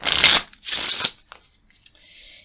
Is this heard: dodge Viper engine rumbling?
no